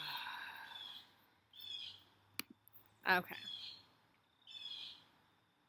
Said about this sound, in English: There's some loud bird in my backyard.